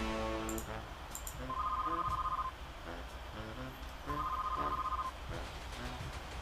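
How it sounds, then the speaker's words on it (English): A telephone rings in the Sam & Max: The Penal Zone game with a steady, repeating electronic ring in two clear bursts, set over the game's music and background sounds. "We can hear a phone ringing."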